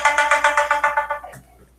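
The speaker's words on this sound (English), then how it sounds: "That was my phone, sorry." A mobile phone ringtone sounds loud and close, a bright repeating electronic melody of about eight quick pulses that then cuts off and fades into near silence.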